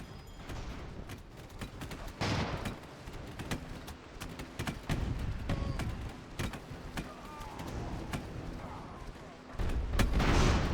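Artillery fire from the airships of Airships: Conquer the Skies pounds a small building, landing as a string of sharp booms and thuds at uneven intervals, with a heavier cluster of blasts near the end.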